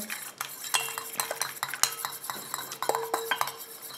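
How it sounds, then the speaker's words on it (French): Repeated stirring of an oil phase and a water phase together for a grapefruit cream in a container, with clinking utensil scrapes and taps against the vessel in an irregular rhythm, close and moderately loud, with no talk. "Et je mélange comme ça jusqu'à ce que ma mixture refroidisse et épaississe"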